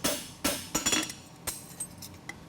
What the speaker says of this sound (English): Every hammer blow is touching the last one.